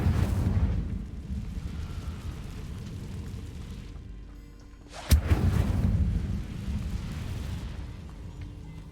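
A fire spell, Incendio, is cast in Hogwarts Legacy: a sudden sharp burst midway flares into a roaring whoosh over ongoing low rumbling.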